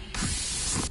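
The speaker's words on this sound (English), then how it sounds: "Steam!" A short, steady steam puff from the video game Alone With You: broad, loud hiss that starts abruptly and holds for most of a second before cutting off.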